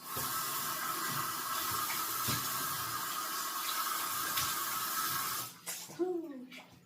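Tap water runs steadily into a sink during face washing, a continuous close rush that cuts off near the end, followed by a brief voice.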